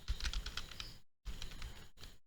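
Typing a command on a computer keyboard to repair a stuck Windows boot: rapid close keystrokes in two bursts separated by a short silent pause, alone with no voice.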